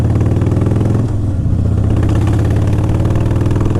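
A Harley-Davidson Softail Standard motorcycle runs on a test drive, its engine a loud, close, steady low rumble with a brief dip near the start before settling back to an even throb.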